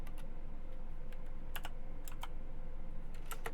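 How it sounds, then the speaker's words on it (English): Typing on a computer keyboard, a scattered series of sharp, quick clicks over a steady low hum, close and fairly quiet, with no talking. "You can hit the tab key."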